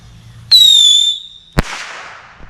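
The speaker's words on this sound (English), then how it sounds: "Bottle rockets." Bottle rocket fireworks launched outdoors: a bright whistling streak rises for about a second, then a sharp pop bursts in the air and trails off into crackling hiss.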